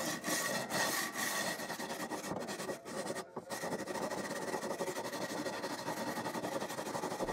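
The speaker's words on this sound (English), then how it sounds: "I used that sanding block to sand the edges of the frets too." A sanding block levels the frets on a handmade electric guitar built from salvaged oak, making steady, close back-and-forth scraping strokes with one brief pause midway and no talk.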